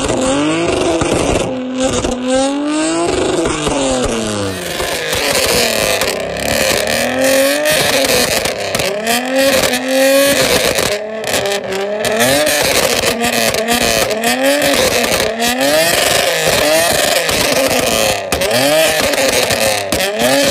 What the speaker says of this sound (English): I'll put the videos with him spitting flames, backfiring